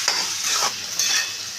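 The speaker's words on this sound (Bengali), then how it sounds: "শাহি গরম মশলা দিয়ে আবারও আমি এটাকে ভালো করে মিশিয়ে নিচ্ছি।" A spoon stirs curry seasoned with shahi garam masala in a pan, a few close scraping strokes over soft frying, brief and without talk.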